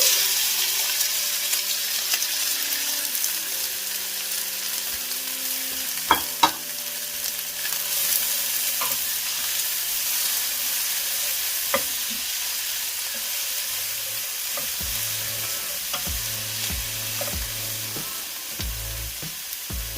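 Onions sizzle steadily in a pan for Rogan Josh while a utensil stirs and scrapes them, close and continuous, with a few sharp clicks and a low hum toward the end.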